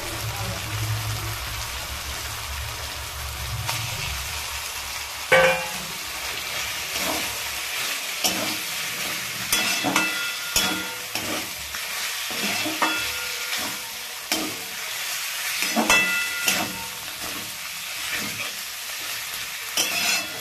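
Minced chicken fries with spices in a hot pan, making a steady sizzle broken by repeated scraping stirs of a spatula, close and fairly quiet, without talk.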